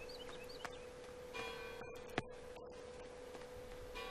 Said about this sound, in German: Hier hört man jetzt die Glocken, weil ich die Tür aufgemacht habe.